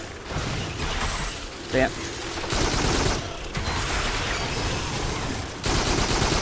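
Spike launcher weapon firing in the VR shooter Farpoint on PSVR, repeated bursts of loud mechanical shots and impacts in sustained waves, with a man's brief exclamation over them.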